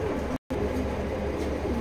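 Pigeons cooing in a pigeon loft, soft low coos over a steady background hum, brief and fairly faint, interrupted by a short dropout.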